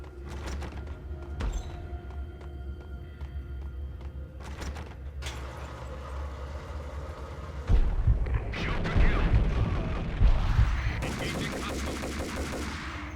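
Colt Commando assault rifle fire in the video game Max Payne, set in an industrial area: low booming shots and bursts of gunfire swell midway, building into louder, denser rapid firing toward the end amid game sounds.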